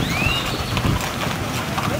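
Horses with riders trot along a rural road during an anniversary parade in Llera, Tamaulipas, Mexico. Soft hoofbeats sit under strong wind rumble and crowd noise, with a thin whistle near the start.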